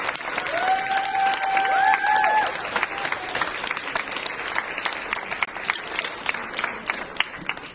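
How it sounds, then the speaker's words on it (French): A crowd at a school celebration claps for José and his team, sustained dense applause with a few whistles or cheers early on, continuing steadily before gradually thinning toward the end. "Alors, une bonne main d'applaudissements à José et à son équipe"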